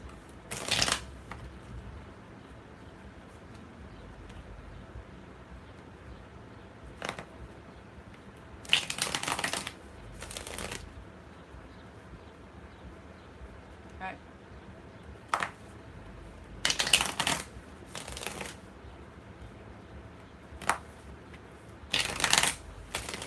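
Tarot cards being shuffled in several quick, crisp riffling bursts separated by quiet pauses, close up, with faint low talk in the background between the shuffles.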